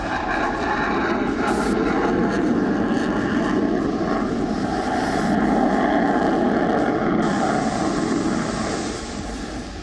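A Russian Sukhoi fighter jet flies near an American Reaper drone over the Black Sea, giving a loud continuous roar that holds steady throughout, with no voices.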